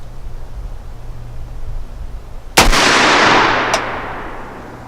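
A Durkin Tactical .458 SOCOM rifle fires at an outdoor range, one sharp loud blast with a long rolling echo, followed by a fainter second crack about a second later.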